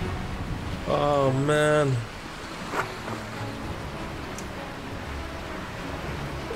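Steady ocean waves wash around a sailboat in Immersive Sailing Simulator, a continuous surf and wind wash under a man's brief exclamation.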